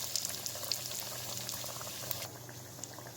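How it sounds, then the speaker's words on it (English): Aloo paneer bird's nest snacks frying in hot oil, dropped in one at a time, give off a steady, close bubbling sizzle that runs the whole way through without any talk. "I am going to fry the nest one by one. So add enough oil and slowly drop in the nest"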